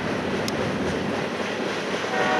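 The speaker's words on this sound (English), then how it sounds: "Just a manifest freight train." Manifest freight train rolling past trackside, a loud continuous rumble and rattle of railcars with faint rhythmic clacking, close and steady throughout.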